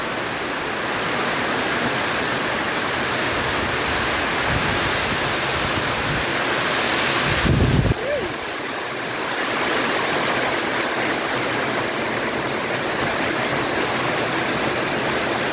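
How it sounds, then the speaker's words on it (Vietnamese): Dense, steady hiss of heavy rain with gusting wind, a continuous roar throughout, broken by a brief low thump midway. "Mưa gió lớn quá rồi."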